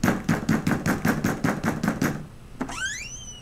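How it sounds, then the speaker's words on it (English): A rapid series of knocks or taps, about ten evenly spaced hits over two seconds, followed by a sharp click and a rising whistle-like tone; no speech. "I heard something sounded like three knocks."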